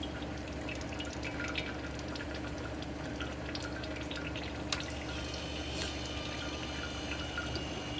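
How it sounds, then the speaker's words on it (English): Maple syrup trickles slowly from the draw-off valve of a wood-fired evaporator, a faint, thin, continuous run of liquid over a constant low hum of the rig, with a couple of small clicks. "we just get a slow trickle"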